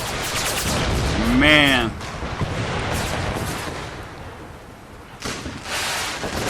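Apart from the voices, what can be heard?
artillery fire in the video game Empire: Total War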